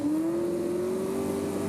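Engine of a 1993 V8 touring car at Sydney's Amaroo Park pulls away from the starting line, a loud sustained note rising steadily in pitch as it accelerates, with no voices over it.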